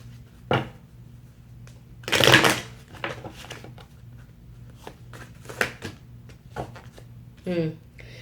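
Oracle and tarot cards are shuffled and handled for a reading in several short, crisp riffling bursts, with softer card taps between them.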